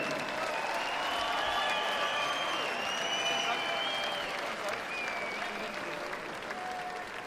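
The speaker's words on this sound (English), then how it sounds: "please a round of applause for the gallant" Crowd applause at a boxing match for a gallant fighter, a sustained, even wash of clapping filling the arena, with an announcer's amplified voice heard over it.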